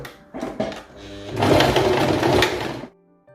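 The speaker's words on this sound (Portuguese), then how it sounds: "nós vamos estar passando na máquina agora, ó, costura reta" A sewing machine runs a straight seam along the folded hem of a fitted tube dress with gores, a short whirring burst that swells steadily for under two seconds before stopping, close up and with no talk over it.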